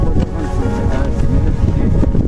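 Steady wind buffeting a microphone on the Puy de Sancy mountain, a constant low rumbling roar throughout with no pauses, loud and close.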